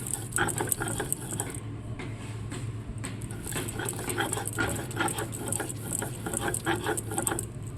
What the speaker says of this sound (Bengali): মাংসর মশলাগুলো যেন আপনারা হাতে বেটে দেওয়ার চেষ্টা করবেন